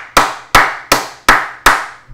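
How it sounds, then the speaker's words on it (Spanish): Five sharp, evenly spaced hand claps ring out close and loud, with nothing else audible, given as applause for President Nayib Bukele. "Un aplauso para el presidente Nayib Bukele."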